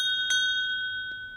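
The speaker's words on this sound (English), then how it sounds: "Bell's a little loud for my liking." A bright bell in the track cycling video game Pro Cycling Manager 2022 rings loudly with a sustained metallic tone, struck once and then again more faintly about a second later.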